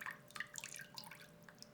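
Water drains and drips from a houseplant pot after watering, the soil covered with top dressing. The drips are faint, soft and scattered, with small irregular taps over a quiet background and no one talking.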